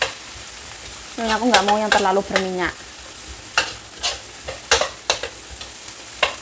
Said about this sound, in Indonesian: Goreng pelan-pelan.